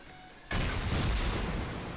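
A sudden loud, rumbling blast erupts after a brief quiet moment and roars on steadily: a rocket launched during a base raid in the game Rust.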